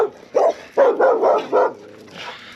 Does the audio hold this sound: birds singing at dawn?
no